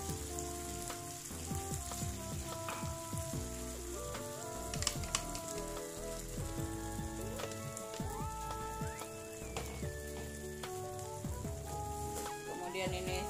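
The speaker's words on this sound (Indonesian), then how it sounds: "Ini saya tumis lagi biar lebih benar-benar tanah ya" Coarsely blended chili sautéing in a pan, a constant close crackling sizzle with scattered pops and scraping stirs throughout.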